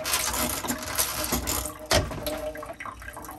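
A saltwater tap runs into the sink of a 1976 Tayana 37 sailboat, a steady loud rush of water filling the basin with a brief splashy surge partway through.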